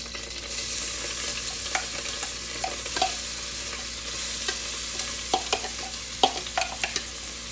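Chopped onion frying in hot oil for an Iraqi tajine, a steady sizzling hiss with intermittent scraping and clicking stirs of a utensil against the pot, moderately close and without voices.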